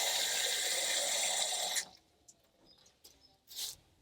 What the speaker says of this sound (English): Just going to put some water in there.